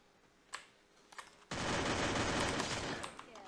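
Automatic gunfire in the mobile battle-royale game Free Fire: a few faint clicks, then a sudden loud sustained burst of rapid shots lasting about two seconds before tapering off.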